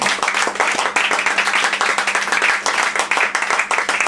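An audience applauds for a singer at a party, a loud, dense burst of hand clapping that carries on steadily from start to finish.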